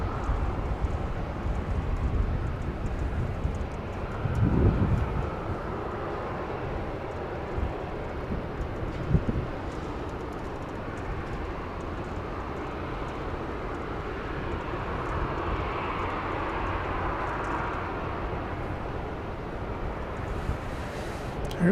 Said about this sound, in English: 737-700 on final approach.